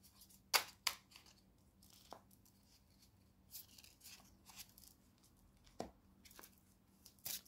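Playing cards handled and shuffled during a tarot-style card reading, heard as quiet, sporadic papery riffles and snaps spread across a hushed room, with no talking.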